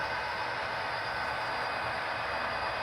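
A model train hauling oil tank cars runs around a layout loop, a steady, even rolling rush with no breaks, close and moderately loud.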